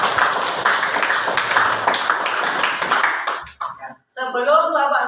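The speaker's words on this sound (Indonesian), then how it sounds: "Oke, sekali lagi tepuk tangan untuk semuanya." Classroom applause, students clapping together in a lively burst that cuts off abruptly, followed by a voice speaking briefly.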